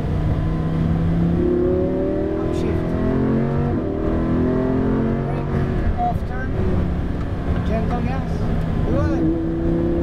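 A car engine revving up and shifting gears, the pitch climbing, dropping and climbing again across repeated upshifts, close and loud, with a voice talking over it.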